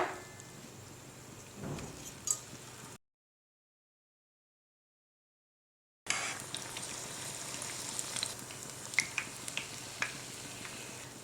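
Coated chicken nuggets sizzling in hot oil over a medium-low flame, a steady crackling hiss with scattered pops, broken by a silent gap in the middle.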